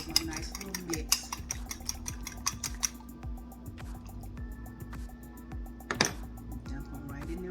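Pecans being stirred in a bowl with a spoon, soft scraping and clinking strokes in a loose irregular rhythm, close and quiet, with a brief sharper knock midway.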